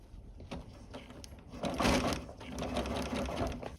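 A sewing machine runs a seam on a V-neck princess-line dress, its fast, even mechanical stitching whirring close and moderately loud, picking up speed partway through, with no one talking.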